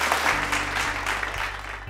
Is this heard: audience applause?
yes